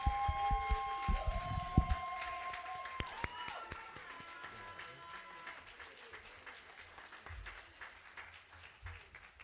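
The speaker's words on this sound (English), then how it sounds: "give another round of applause to everybody who participated in the service" Congregation applause for service participants at an AME church worship service, scattered clapping with some singing or tones early on, fading gradually and growing fainter toward the end.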